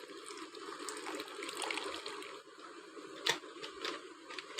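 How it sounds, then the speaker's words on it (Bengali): Water poured into a bowl of batter for a bitter gourd (kakrol) recipe, a soft, uneven trickle and splash up close, with a brief clink partway through. "দেখো আমি জল দিয়ে দিচ্ছি।"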